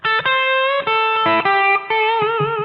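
A distorted electric guitar plays a short minor pentatonic blues lick, bending a note up to the major third, bright and sustained, close up without any voices.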